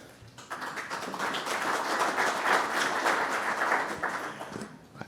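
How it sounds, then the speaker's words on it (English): An audience at a golf summit breaks into applause, a dense burst of clapping that swells quickly, holds steady for several seconds, then tapers off. No one speaks. "I'm not used to getting cheers and claps"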